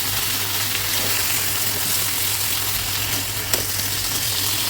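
Washed brinjal pieces sizzle loudly in a hot wok, a steady, dense crackling hiss that holds without a break and with no voices over it.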